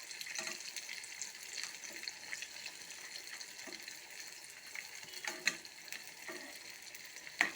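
Neyyappam batter of coconut, jaggery and cumin fries in a pan, making a faint, steady sizzle with occasional soft pops and crackles and no voices.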